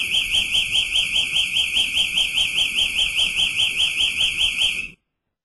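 Security alarm tone from AMAG Symmetry access-control software, a steady warbling electronic beep pattern repeating rapidly for about five seconds before cutting off abruptly, loud and alone.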